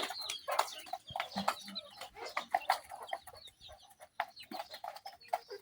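Several chickens cluck and chatter in short, repeated bursts, fairly close and moderately quiet, with no talking over them.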